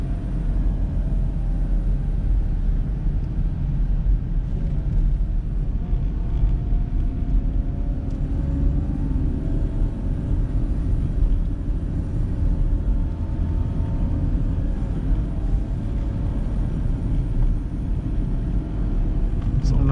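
A Renault Clio drives at low speed near Azuga, its engine and road noise forming a steady low rumble from inside the cabin, with talk over it.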